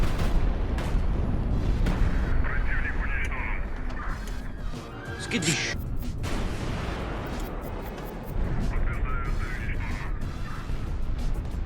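Artillery salvos from warships firing in the HighFleet game: deep booming shots and rumbling blasts recur throughout, with someone talking over much of the firing.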